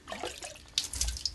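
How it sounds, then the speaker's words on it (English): Water poured out of a reverse osmosis filter housing that held a carbon block filter, a short close splashing trickle into a sink with a few louder gushes toward the end. "So we're just going to pour out this water."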